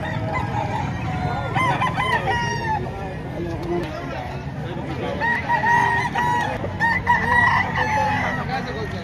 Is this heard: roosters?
yes